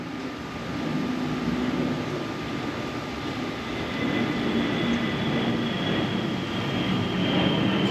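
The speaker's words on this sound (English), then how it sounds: "that jet sounds like it's landing in my front yard" A low-flying jet aircraft passing overhead near a home driveway, a steady loud roar that swells slightly over eight seconds with no one talking.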